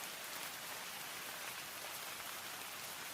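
Rain pours in a constant, hissing downpour, a soft, uniform wash of drops with no breaks and no voices.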